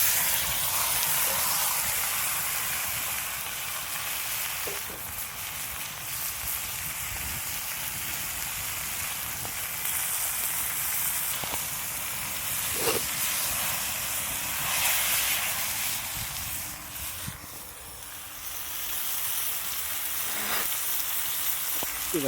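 A kilo of chicken frying in a very hot pan for a village-style chicken fry, giving off a loud, continuous hiss and sizzle that holds steady, with occasional faint clicks of a utensil.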